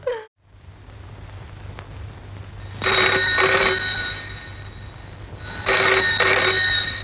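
A telephone rings in two clear bursts of double trills, bright and close, separated by a quiet gap with a low steady hum underneath and a brief sound at the very start.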